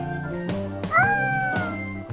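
A cat meowing in a warehouse video game, several close, clear meows with one drawn-out rising cry in the middle, alone without talk.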